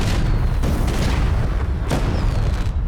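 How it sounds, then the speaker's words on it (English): Fireworks bursting in a dense, continuous barrage of booms and crackles, loud and close, with a few sharper peaks standing out. "Oh, fireworks!"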